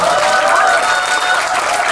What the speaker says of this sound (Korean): 박수 한 번만 줘